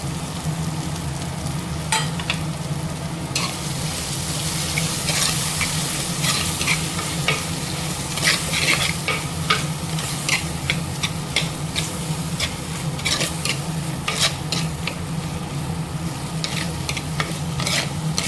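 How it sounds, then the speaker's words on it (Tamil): Turkey berries sautéing in oil with softened tomatoes for sambar, a loud, dense crackling sizzle throughout with frequent sharp spatula scrapes against the pan, close by and no voices. "சுண்டைக்காயை நல்லா ஒரு நிமிஷம் இந்த எண்ணெயோடு நல்லா வதக்கி விடுங்க."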